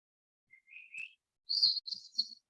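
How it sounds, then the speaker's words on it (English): A bird gives a rising whistle, then a few sharp high chirps, clear against otherwise quiet surroundings. "Focus only on the sounds of the birds chirping as you walk along the path."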